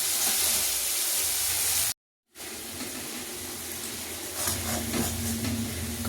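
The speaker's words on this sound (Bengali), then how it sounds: "পেস্টটা একটু তেলে ভেজে নেবো বলে বসিয়েছি।" Green pea paste fries in hot oil in a kadai, a loud continuous sizzle close by, broken by a brief silent gap before the frying resumes with stirring clinks.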